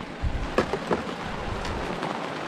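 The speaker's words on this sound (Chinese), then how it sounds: "雨越下越大，小雨行，大雨不行。" Heavy rain falls by a riverside in the wilderness, a dense steady hiss with a few louder thumps and patters from drops striking nearby surfaces, no voices.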